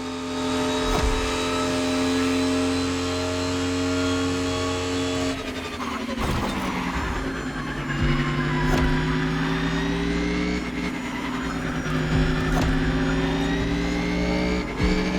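Race car engine in The Crew Motorsport droning loud and steady, holding a high rev before shifting and climbing again through gear changes, with tyre and road noise underneath throughout.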